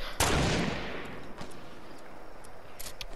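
A single loud gunshot blast in the Fortnite video game opens with a sharp crack and then decays into a long rumbling tail, followed by a few faint distant pops.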